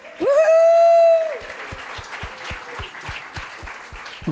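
At a business event, a loud sustained whistle-like cheer rings out first, followed by a spread of scattered, evenly spaced claps from a modest audience applauding the district superintendent.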